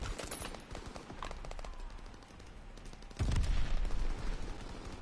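Rapid gunfire from World War II era weapons in Call of Duty: WWII multiplayer, bursts of shots crackling throughout, with a heavier, louder barrage of firing and a booming impact in the second half.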